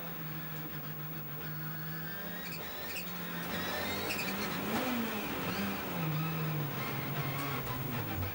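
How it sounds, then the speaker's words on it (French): Turbocharged four-wheel-drive rally cars, a Subaru Impreza WRC and a Volkswagen Golf, accelerating hard off the start line; engines roar loud and close, revving up with rising and falling pitch, with no talk over them. "Attention, c'est parti pour ces monstres de puissance, les 4 roues motrices turbo."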